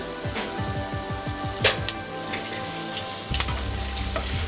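Cumin, ginger, garlic and curry leaves crackle and spit in hot oil, a loud, close, bubbling sizzle with sharp pops and a brief clink, heard alone without speech.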